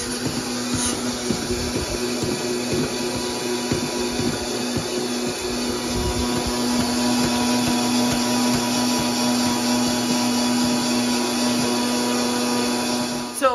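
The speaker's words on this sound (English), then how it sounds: "Once you go through the Vitamix, you should just have nice powder like this." A Vitamix blender grinds dried squash into powder, a loud, steady motor whir with a gritty rushing texture that runs continuously and close for the whole stretch, with no voices.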